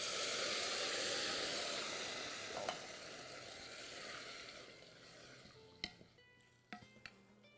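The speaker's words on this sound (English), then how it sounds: "At this point, I'm going to add my chopped tomatoes." Canned chopped tomatoes tipped into a pot of hot spice paste, setting off a loud, steady sizzle and hiss that slowly fades, followed by a few sharp clinks and scrapes near the end.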